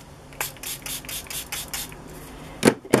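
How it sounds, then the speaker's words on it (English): A hand spray bottle misting water onto a whimsical girl painting, with a run of quick close spritzes, a pause, then two sharper, louder bursts. "Got my spray. I'll just spray it."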